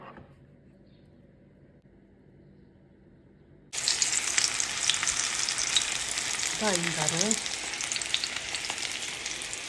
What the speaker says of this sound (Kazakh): тамаша болып қуырылып жатыр.